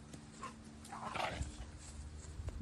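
A dog named Winter whimpers after being accidentally bonked on the forehead with a pitchfork in an orchard, a few soft, rising whines close by over a low steady background hum.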